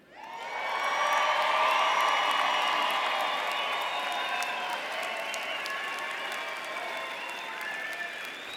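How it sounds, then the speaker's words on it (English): A large commencement audience in a pavilion breaks into sustained applause that swells quickly, stays loud and dense for several seconds with scattered cheers, then slowly eases while still going. "I can tell from that round of applause that there are some happy people in this pavilion today."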